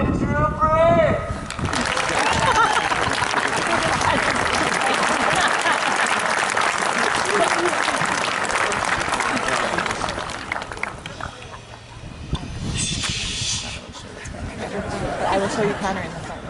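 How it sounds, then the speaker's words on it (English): A high school graduation audience breaks into sustained applause with cheering, loud and dense for about ten seconds before thinning out, with chatter and a voice over the fading clapping. "Everybody, big round of applause for Andrew Branch."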